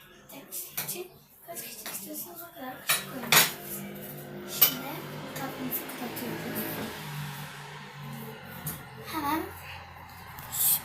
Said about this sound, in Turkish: Şöyle bir kaşık koyuyoruz.